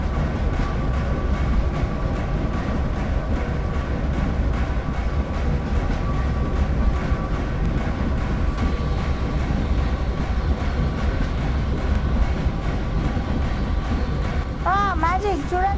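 A ghost train approaches in a video game as a continuous heavy rumble, loud and steady throughout, with a player talking over it.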